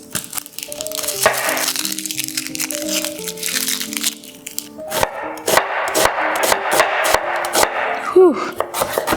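A knife finely chops onion for keema curry, tapping quickly and sharply on a board in a steady run of crisp strikes, with soft music playing before the chopping starts.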